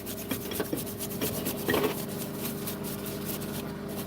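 A Bosch hammer drill is cleaned down by hand, a continuous rubbing and scrubbing sound with rasping strokes, close and steady with no talk.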